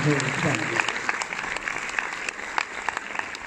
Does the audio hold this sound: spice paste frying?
no